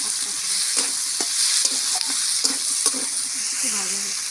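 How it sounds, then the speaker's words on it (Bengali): Potatoes, flat beans and tomato fry in a pan, a constant close sizzle broken by several stirring scrapes and clatters of a spoon against the metal. "আলু টমেটোটা দিয়ে দিই, দিয়ে একটু ভাজবো"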